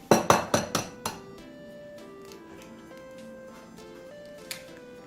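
A hen's egg is struck several times against a bowl rim in quick succession, sharp clinking taps, then a lone faint knock a few seconds later while pancake batter is being made; no talking.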